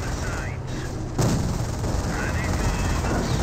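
A Wehrmacht rocket artillery barrage in Company of Heroes: dense crackling explosions and rumbling booms overlapping in a continuous roar, growing louder after a sharp impact, with a voice talking over it.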